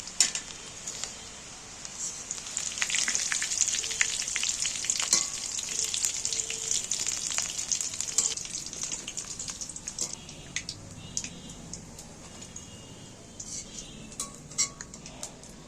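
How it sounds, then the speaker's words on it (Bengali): Fish roe fries in oil in a home kitchen, giving a steady close sizzle broken by occasional stirring clicks and utensil taps. The sound grows quieter toward the end, and no one talks. "দেখো ডিমগুলো পুরোটা ভেজে তুলে নিয়েছি"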